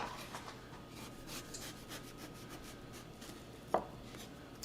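Quiet scraping and rubbing of a knife slicing the end off a cantaloupe melon, with one sharper cut near the end over faint room hum and no speech.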